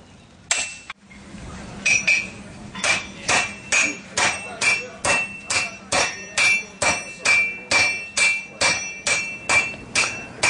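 Hand hammers forge a freshly smelted iron bloom into bars. After a single heavy blow, about sixteen steady, ringing metallic strikes follow close by at a regular rhythm, loud and clear with no talk.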